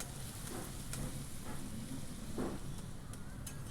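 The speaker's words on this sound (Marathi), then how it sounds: "हे कांदे व्यवस्थित भाजून घ्यायचे आहे." Onions fry in a pan with a soft, steady sizzle, joined by occasional light clicks of stirring. The sound stays low and continuous throughout.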